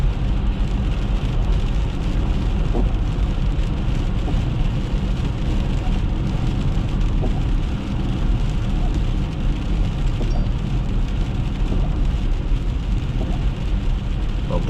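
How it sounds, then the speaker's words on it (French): Steady outdoor rain in Masterville on a November day of snow and sleet, a dense continuous wash with road and engine-like rumble beneath, heard throughout. "c'est pas mal de la pluie"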